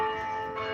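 A church bell ringing with a sustained, humming tone that fades slightly and then swells again, heard clearly and alone over a short stretch.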